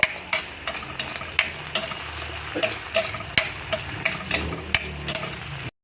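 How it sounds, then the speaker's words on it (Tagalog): Tilapia sarsiado with mustard greens, oyster sauce added, stirred in a pan: rhythmic scraping and clacking of a utensil against the pan about twice a second over a soft sizzle, close up with no voices. "Halo-haloy lang natin para pumantay yung kanyang pagkakaluto."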